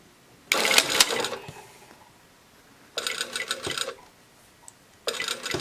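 A home sewing machine stitches a bodice seam in three short bursts of rapid mechanical whirring and clatter, separated by quiet pauses, close and loud with no talk over it.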